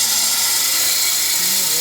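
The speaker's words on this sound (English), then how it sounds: "Time to cut out my clamping piece of wood." Power tool cutting a clamping piece of wood, a continuous high-pitched whine droning steadily at close range, with a voice faintly audible under it.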